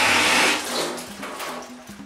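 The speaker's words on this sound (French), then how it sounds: "Je vais encore bien la rincer." An apple is rinsed under a running kitchen tap, giving a steady, close rush of water with small splashing changes as the fruit is turned in the stream.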